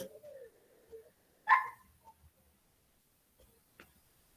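A neighbour's dog gives one short, sharp bark at a distance, then only faint ticks and small noises in a quiet room.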